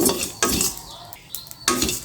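Cardamom and cumin are stirred and dry-roasted in a pan, with bursts of metallic scraping and clinking from the spoon against the pan separated by brief quieter moments.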